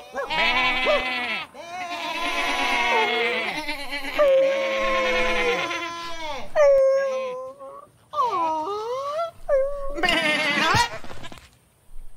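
Sheep being herded by dogs on a farm bleat loudly and repeatedly, long wavering cries one after another, close by with little else in the background.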